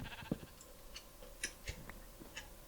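Sheep in the Minecraft video game bleat softly a few times, faint and scattered, with light ticking clicks in the quiet background and no talking.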